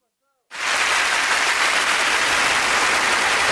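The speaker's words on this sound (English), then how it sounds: "Applause up." Dense, steady applause from a crowd on a radio show, bursting in loud after a half-second of near silence and holding constant without letup.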